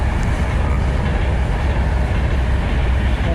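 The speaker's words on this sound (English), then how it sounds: "That's the Avanti train." A passing Avanti passenger train gives a loud, steady rumble of rolling wheels and carriages, sustained close by throughout with no voices.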